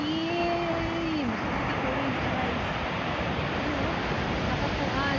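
A constant roar of ocean surf and wind at Bondi Beach fills the scene, with a siren wailing faintly at the start and a voice briefly over the noise.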